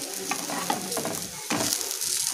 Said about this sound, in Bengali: এইভাবে আমরা সব পাউরুটিগুলো এইভাবে ভেজে নেব।